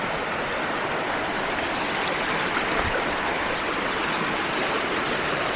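A clear mountain stream on a Gunung Pulai trail flows in a steady, loud, close rush of broadband water noise that stays constant throughout, with no voices.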